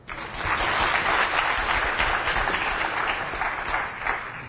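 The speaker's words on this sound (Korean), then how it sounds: "박수 쳐주세요." An audience at a lecture by the Harley-Davidson Korea CEO breaks into dense, sustained applause, a loud wash of many hands that stays steady for several seconds before easing slightly.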